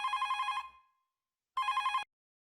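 A telephone rings in two bursts, a trilling electronic bell that cuts off, pauses about a second, then rings again, clear and alone.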